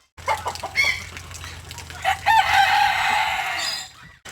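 A few short clucks, then a rooster crows loudly and long nearby, the call stretching out before trailing off.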